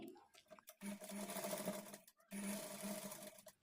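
A sewing machine stitches a halter neck blouse in two steady runs, each a second or so long, with a brief pause between them. The whirring is close and even.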